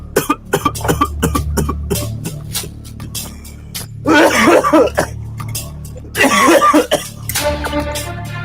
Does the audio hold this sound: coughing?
yes